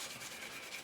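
Kitchen towel wiped over the surface of a Seafire XV scale model to clear off excess wash, a steady soft close-up rubbing and scuffing that runs continuously without breaks.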